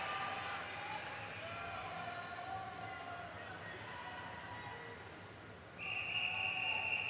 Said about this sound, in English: So the whistle does sound for heat number 2 of the women's 100 metres freestyle S13.